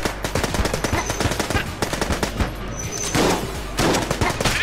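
Rapid bursts of Uzi fire in the video game Enter the Gungeon, loud and close, in quick repeated volleys with short pauses, overlaid with game effects and faint talk.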